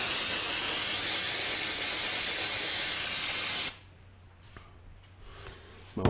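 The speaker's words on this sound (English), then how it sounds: "I get brake cleaner, And I blast the valve." Brake cleaner sprayed in a loud, steady hiss onto an engine valve during a Jaguar MKII engine rebuild, lasting a few seconds and then cutting off abruptly, leaving faint clinks and handling noise.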